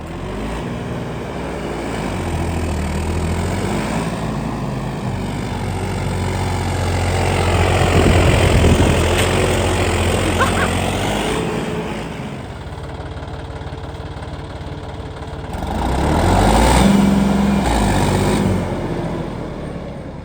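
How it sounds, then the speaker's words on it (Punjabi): A 4x4 tractor engine runs steadily close by, a low, throbbing rumble that swells louder twice and then settles back, with no talk over it. "ਜਿਵੇਂ ਬਈ ਹੋਰ ਟਰੈਕਟਰ 4x4 ਆਵਾਜ਼ ਕਰਦੇ ਨੇ ਦੇਖੋ ਓਵੇਂ ਆਵਾਜ਼ ਤਾਂ ਨਹੀਂ ਕਰ ਰਿਹਾ"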